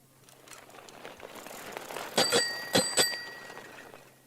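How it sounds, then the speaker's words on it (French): Bicycle bell on a milkman's bike, heard on a children's story cassette: a few quick bright rings in succession, with the last ring lingering briefly, amid light rustling and mechanical clicks. "la sonnette de son vélo"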